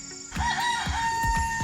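One of two backyard roosters crows close by in a single strained call, with short clucks and scratchy farmyard noise around it.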